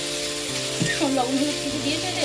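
Cumin paste being fried in oil in a home kitchen, a soft steady sizzle with a stirring scrape, heard close beneath a woman's speech.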